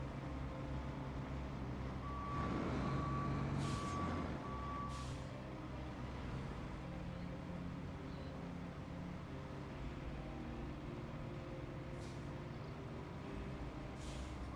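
Truck reversing beeps sound as a steady tone series in the video game Roadcraft, over a constant low engine rumble, with short air brake hisses near the start and again late on.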